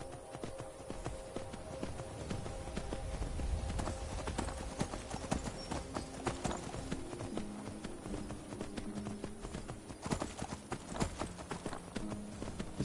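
Steady clip-clop of horse hooves pulling a carriage along a road in the Skyrim video game, continuous rhythmic trotting with creaking and rolling noise, no speech.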